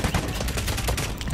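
Gunfire in the Delta Force video game, a dense continuous burst of automatic shots filling the short clip at steady loudness, with no voices.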